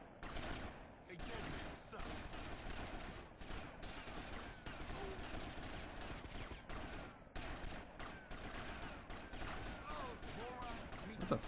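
In GTA Vice City Stories on PSP, gunfire crackles in dense, rapid bursts of overlapping shots, near and loud, with only brief gaps between volleys.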